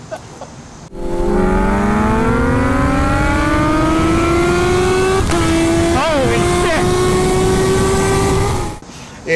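Kawasaki Z H2 motorcycle accelerating hard with a rising engine tone that climbs steadily over several seconds, loud and close, with a brief shift-like break midway and voices faintly underneath.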